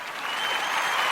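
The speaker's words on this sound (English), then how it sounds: "Hold on, I have applause." A short burst of canned applause plays on a talk radio show, a dense, even clapping texture heard alone at moderate level.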